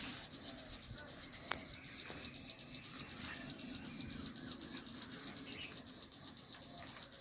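A bird calls faintly in a bitter gourd garden at harvest time, its short notes repeating in a steady rhythm over quiet outdoor background, with no one speaking.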